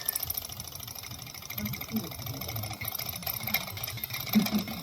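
A small Stirling heat engine runs with a quick, rapid mechanical ticking and rattling, fairly quiet and continuous, with faint voices in the room beneath it.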